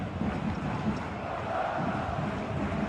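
Dense roar of a stadium crowd in a football video game during a tense Barcelona attack, a steady wash of cheering voices with no break, loud and continuous throughout.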